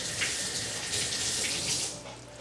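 Kitchen tap water runs steadily over a spoon being rinsed, a close, bright splashing stream that holds for a couple of seconds before easing slightly at the end, with no talking.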